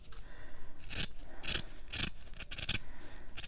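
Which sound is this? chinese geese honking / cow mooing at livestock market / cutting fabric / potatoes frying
cutting fabric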